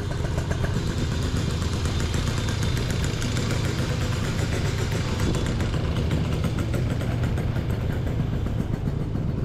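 Yamaha BWS scooter fitted with a Malossi kit, its small engine running with a steady, buzzy idle and rough, knocking undertone, close and continuous without speech.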